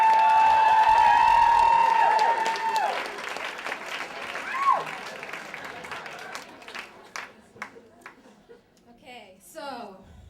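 An audience claps and cheers, loudly at first and then thinning out. A high whistle cuts through early on, and someone speaks as the clapping dies away.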